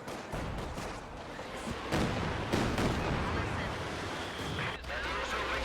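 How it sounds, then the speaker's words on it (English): Mortar barrage in the real-time strategy game Company of Heroes 2, a steady stream of overlapping thuds and crackling blasts that keeps going throughout, loud and dense with no clear gaps between impacts. "But there's mortars once again barraging"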